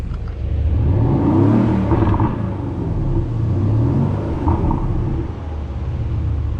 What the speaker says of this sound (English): we'll kind of just listen to this rumble